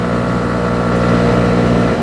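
A 2021 Honda CB125R motorcycle engine pulling in fourth gear up a hill, a loud close steady drone with a constant pitch that holds for the whole moment.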